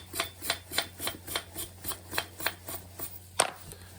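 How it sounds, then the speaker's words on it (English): A wire brush scrubs sooted, carbonized burner tubes from a steam boiler, giving about a dozen rhythmic, evenly spaced rasping strokes, close and fairly loud, ending with a sharper scrape. "with burner tubes. Use a wire brush and WD-40."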